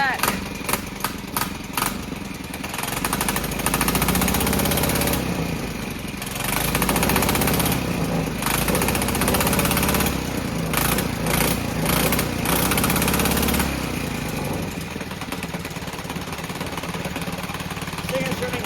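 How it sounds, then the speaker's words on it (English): An old small engine meant for a go-kart runs after being revived, a buzzing, lawnmower-like putter that blips in short bursts, then settles into a steady, fairly loud run close by. "now look at that engine. Perfect. That thing is running crisp."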